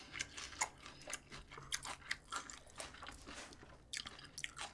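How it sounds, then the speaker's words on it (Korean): Crunchy kimchi eaten with bossam gives close, wet crunching and biting, a quick run of crisp chews repeating steadily for several seconds with no talking. "김치 너무 아삭아삭하고 맛있어요"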